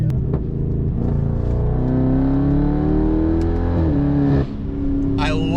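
BMW F10 550i V8 on throttle lift-off, a deep rumbling exhaust note whose pitch sweeps and shifts, close and loud inside the car, followed by a brief burble near the end; people talk over it.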